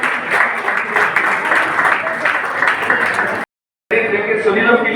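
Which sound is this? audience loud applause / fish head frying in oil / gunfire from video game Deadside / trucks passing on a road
audience loud applause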